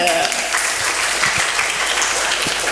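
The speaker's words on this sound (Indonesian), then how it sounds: "Tepuk tangan." A crowd at an Indonesian cooperative awareness event breaks into dense, loud applause that holds steady throughout.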